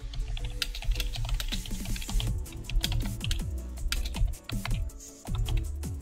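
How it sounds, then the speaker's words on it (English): Rapid keystrokes on a computer keyboard as a message is typed, crisp irregular clicks in quick bursts with a brief pause near the end, close and fairly quiet with no talking. "All I need to do is type in a message."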